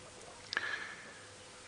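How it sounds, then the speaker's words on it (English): Birds calling faintly in the distance at sunset on a quiet African safari drive: one brief chirp, then a thin, drawn-out whistle over low ambient hiss. "You can hear a few birds in the distance,"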